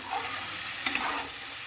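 A tomato, coriander leaf and onion paste hits hot oil in a pan for a Bengali fish curry, giving a steady close sizzle and hiss that holds evenly throughout, with no talking.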